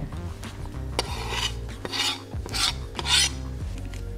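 Dry cake ingredients stirred with chopped thyme in a bowl for a vegan lemon and blackberry cake, giving several close, rasping scrapes and rubs in uneven bursts with no talking.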